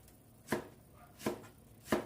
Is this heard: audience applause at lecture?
no